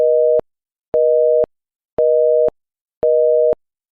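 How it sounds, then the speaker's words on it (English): Telephone busy signal: four loud, steady tone bursts of about half a second each, evenly spaced with equal silences between them, heard alone. "oh, it's a busy signal"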